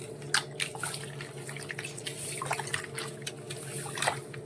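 Water being stirred to dissolve tamarind for pepper rasam, with small drips and liquid splashes sounding faint and close against a low steady background hum.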